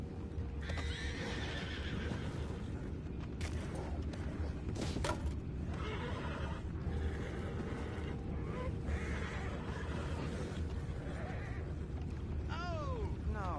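Horses in the Red Dead Redemption video game whinny and neigh several times over steady clip-clop hoofbeats, under low ambient game sound, with a character's voice briefly heard.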